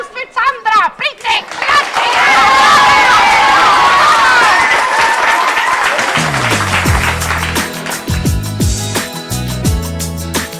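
Audience applauding and cheering for a singer at a staged show, a loud sustained wash of clapping and shouts that swells after a voice, then fades as music-like tones and rhythmic knocks come in.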